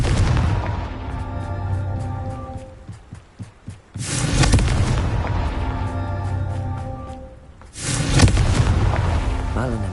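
A Confringo fire spell explodes in Hogwarts Legacy, giving two heavy booming blasts with long rumbling tails about four seconds apart. Quieter footsteps and thuds fill the gap between them.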